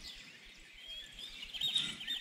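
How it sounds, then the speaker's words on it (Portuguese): Bird chirps from a birdsong sound effect in an Unreal Engine 4 game scene, thin high tweets repeating quietly over a faint low rumble and growing slightly louder toward the end. "quando chegar perto do passarinho, tocar esse som de passarinho"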